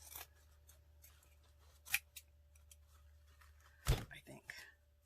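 Scissors snip through a fabric heart, with one sharp cut near the middle and a louder cut toward the end over a quiet background with a steady low hum.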